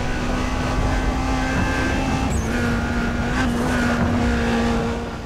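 An Alfa Romeo 8C in the racing game Need for Speed World fires its nitro boost, giving a loud sustained engine drone with a steady pitch and a brief whoosh partway through that fades slightly at the end.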